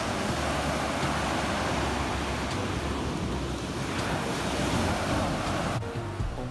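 Gentle ocean waves wash in a steady, continuous surf, close and fairly loud, with some wind noise mixed in.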